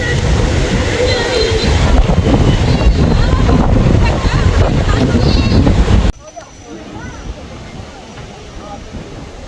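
Strong storm wind sweeps across a riverside embankment on Bhola Island, roaring and buffeting the microphone over rough water. The roar is loud and continuous, then drops sharply to a quieter rumble partway through.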